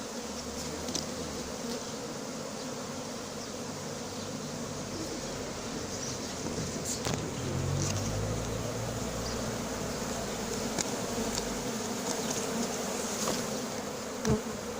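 A swarm of honeybees gathered on a wall during a swarm capture in Soignolles-en-Brie, buzzing steadily and densely for the whole stretch, with close passes of single bees rising briefly over the hum.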